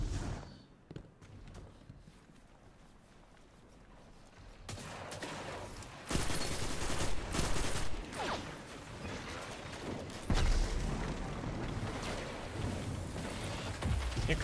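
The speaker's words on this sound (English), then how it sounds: "He uses a hand cannon of 120 rounds per minute." Rapid gunfire in a shooter video game, with dense bursts of shots that start sparse and grow into sustained loud volleys after a quieter opening, with no voices heard.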